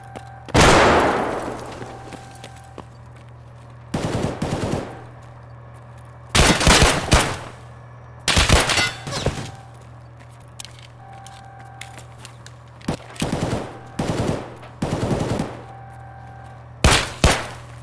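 Gunfire in the game Escape From Tarkov: loud, close bursts of rapid shots separated by short pauses, with one longer ringing shot at the start and several quick volleys afterward.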